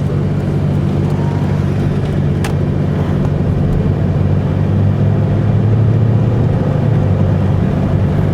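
Steady road noise from a Volvo car driving along, with a constant low rumble and hum and no talking.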